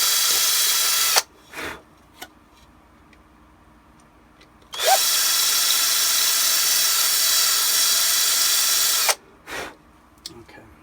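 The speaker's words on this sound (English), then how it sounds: "Going to make this hole a little bigger." Power drill boring out a hole in armor plating, two loud sustained whirring bursts of a few seconds each, separated by quiet pauses with small handling clicks, close up.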